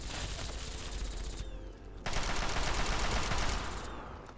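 Automated turrets inside a comic book store in Fallout 3 fire a dense, continuous burst. Two loud stretches of rapid shots sit close by, with a short break between them and no talking.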